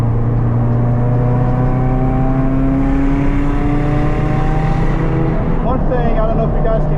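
A turbocharged Toyota GR86 drives on the race track at Road Atlanta, its engine a loud, steady in-car drone with rising and falling pitch, while a voice talks over it throughout.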